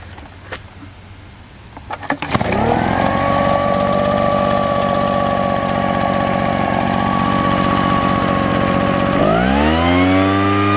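A modified Craftsman gas leaf blower with an adjusted carburetor pulls over after a few short cranks, then runs loud and steady as a continuous engine drone, shifting pitch near the end.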